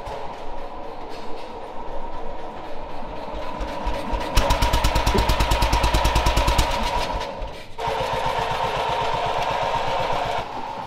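A tiny four-stroke engine on the world's smallest car is cranked with a weak battery, giving a steady loud churning that shifts into rapid rhythmic chugging pulses for a few seconds, then settles back.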